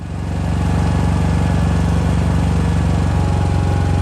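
A DuroMax XP4500iH dual fuel generator runs steadily up close, its engine giving a loud, even, continuous drone with no voices over it.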